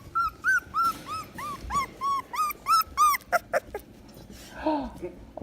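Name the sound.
Vizsla puppies whimpering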